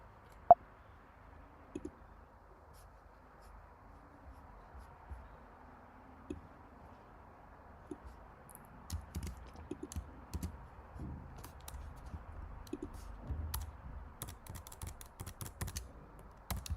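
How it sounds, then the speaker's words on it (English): Someone types on a computer keyboard with soft, irregular clicks, sparse at first and then a denser run of keystrokes against quiet room tone. "So I just talk to my computer, and then there is typing actually happening."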